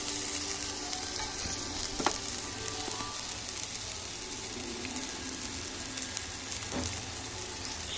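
Lote (Bombay duck) fish frying in a pan with garam masala, a steady close sizzle and crackle throughout with a couple of faint utensil taps, no voices.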